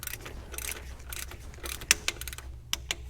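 A ratcheting torque wrench tightens hose clamps on a Dodge Ram 6.7L Cummins thermostat housing, giving close, quick bursts of clicks with a few sharper metallic snaps and pauses between them.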